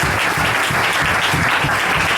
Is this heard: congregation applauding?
yes